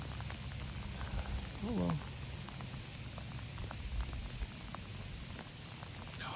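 Steady rain falls outdoors in a hunting camp, a constant close hiss of drops on surfaces, with someone speaking briefly over it.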